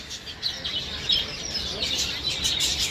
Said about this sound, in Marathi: आणि इकडे सर्व आहेत बर्ड्स वेगवेगळ्या प्रकारचे